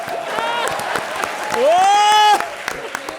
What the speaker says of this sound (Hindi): तालियां जरूर कर दो